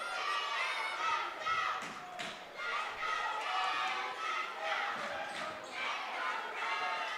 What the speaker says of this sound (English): Crowd gets into this one.